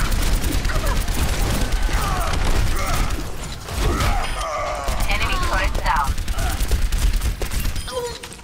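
Rapid mechanical turret fire in an Overwatch match on Temple of Anubis with Bastion nearby, a dense rattling burst running steadily throughout, mixed with clanking game effects and brief voice lines.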